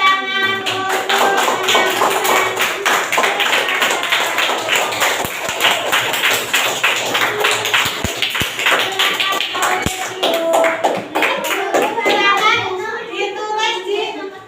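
A classroom group applauds with steady, dense clapping that carries on for many seconds, while children's voices chatter faintly underneath.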